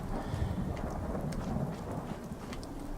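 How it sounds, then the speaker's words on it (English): Rain and thunder in Fallout 4: steady rainfall hisses with a low thunder rumble rolling underneath, moderately quiet and unbroken, with no voices. "Of course it had to rain when I was doing this."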